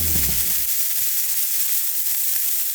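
Steady, dense sizzling of meat cooking on a hot grill, a constant crackling hiss throughout with a brief low rumble at the start.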